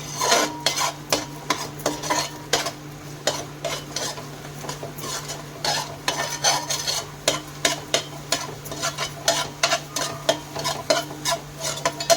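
Eggs frying in a pan with salt for chicken fried rice, a spatula scraping and clinking rhythmically against the metal over a steady sizzle, close and without talk.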